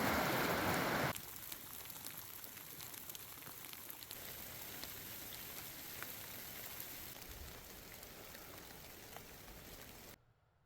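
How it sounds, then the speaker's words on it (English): Rain coming in near turquoise glacier water on the Continental Divide Trail, a steady soft patter and hiss on surfaces after a brief louder burst at the start, fairly faint overall. "Looks like we got some rain coming in."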